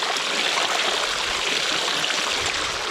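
Muddy sludge pours into a spot near a pump in one continuous, dense gushing wash of liquid that stays loud and even throughout, with no talk.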